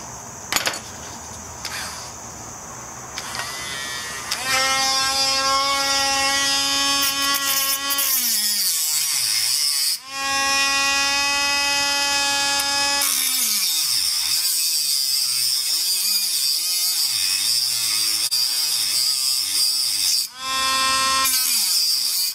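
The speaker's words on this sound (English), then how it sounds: "you can get easy access to it with a Dremel. Just cut a line in it" A Dremel rotary tool cutting a slot into a carburetor screw from a 2000 Yamaha Virago 250 XV250, a loud high-pitched whine with shifting pitch as it bites and eases off, briefly dropping out twice.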